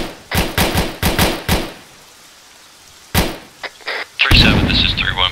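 An ARMA 3 grenade blast in a combat firefight, heard as a sharp loud burst after a few earlier thuds, followed by a short quiet gap and then more bangs.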